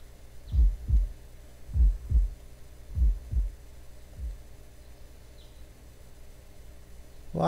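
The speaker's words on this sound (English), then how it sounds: "There's that heartbeat again." A thudding heartbeat from the horror game Tokyo Twilight Ghost Hunters, deep paired lub-dub pulses in a slow steady rhythm that fade toward the end, loud and alone.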